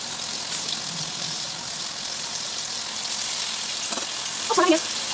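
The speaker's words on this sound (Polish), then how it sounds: "Obsmażamy mięso z jednej i z drugiej strony na złoty kolor." Steady, even sizzling of meat browning over high heat in a pan on a gas stove, a continuous crackling hiss with a few faint clinks near the end.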